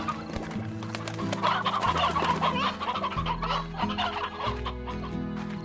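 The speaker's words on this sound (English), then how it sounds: "Chickens again." Several chickens cluck and squawk close by in the farming video game Slime Rancher, a busy overlapping chatter of fowl calls over a low droning background tone, with no talk.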